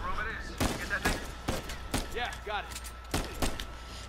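Gunfire from the video game Uncharted 4: sharp shots crack out in quick bursts, several loud reports spread across a few seconds, with in-game voices and battle noise between them.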